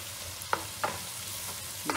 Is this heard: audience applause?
no